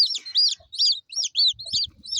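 Backyard hens cluck and call with high, repeated chirping bursts from chicks, close and clear, with faint low rustling beneath.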